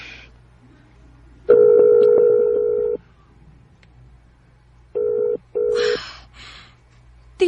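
A Messenger phone call rings out in long electronic tones, one extended ring followed by short paired beeps after a pause, clear and close, with quiet background hum.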